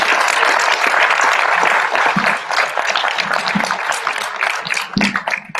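An audience at a conference on plastics applauds with dense, sustained clapping that is loud at first and gradually thins out toward the end.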